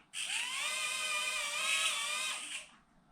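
Buzz Toys Micro Jet Drone motor spinning up close by, a steady high-pitched whine that rises in pitch at the start, holds for about two seconds, then cuts off.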